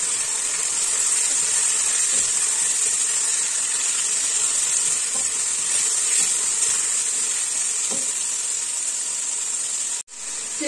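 Half a kilo of mutton with two garlic-ginger cubes frying in a pot, a steady loud hiss and sizzle running throughout with faint clinks, cutting out briefly near the end.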